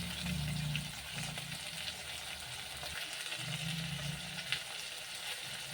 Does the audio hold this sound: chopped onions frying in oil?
yes